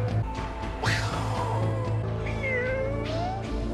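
A person imitates an Angora cat's meow, giving several drawn-out, wavering mewing cries over a constant low hum with background music, loud and close, with no talking.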